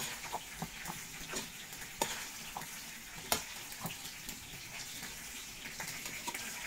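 Cream filling being stirred into dinengdeng vegetable stew in a pot, a soft wet swishing under a steady simmering hiss, with occasional faint clicks of a utensil against the pot.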